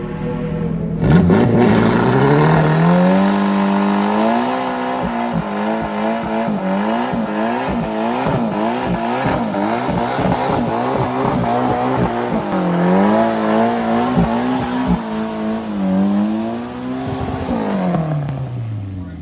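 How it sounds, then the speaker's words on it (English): A race car lays down burnouts at Dragon raceway, its engine revving hard and rising and falling in pitch while the tires squeal and skid continuously for nearly twenty seconds, loud and close. "I laid out the gnarliest burnouts I could"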